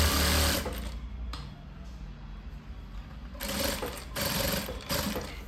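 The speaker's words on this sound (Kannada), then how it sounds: "ಈಗ ಚೆಸ್ಟು ವೇಸ್ಟಿಗೆ ನಾವು ಹೊಲಿಗೆ ಹಾಕೊಂಬರೋಣ" A sewing machine stitches the chest and waist seams of a cross-cut blouse in a tailoring lesson, whirring in steady bursts that stop and restart, loud and close with brief pauses between runs.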